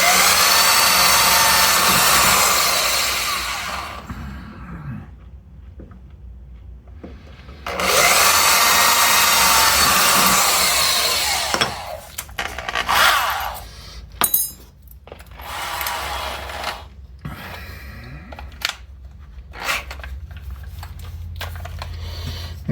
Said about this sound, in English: I'm gonna drill through it, then come back from the other end and countersink and do the countersinking.